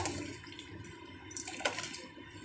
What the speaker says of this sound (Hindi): फ्रेंड्स, हम पानी डालेंगे थोड़ा थोड़ा करके,